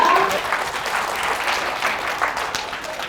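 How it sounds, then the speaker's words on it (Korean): Audience applause at a public science lecture in Incheon, a steady, full round of clapping from a seated crowd lasting the whole stretch without talk. "큰 박수로 맞이해주세요"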